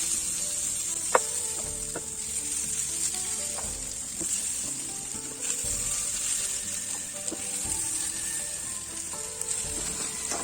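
Potato slices fry on a dosa griddle with a steady, bright sizzle up close, dotted with small pops and clicks from the pan; no one speaks.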